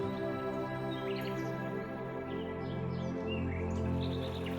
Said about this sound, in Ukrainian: спів лісових птахів